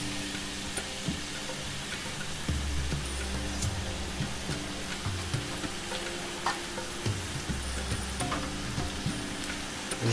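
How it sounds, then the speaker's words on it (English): Finely chopped onion fries in two tablespoons of oil in a cast iron pan, a soft continuous sizzle with small crackles and occasional stirring clinks, close and steady with no talking. "I'm just going to let this cook away in the oil."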